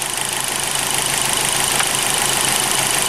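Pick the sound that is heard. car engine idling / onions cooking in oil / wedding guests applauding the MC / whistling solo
car engine idling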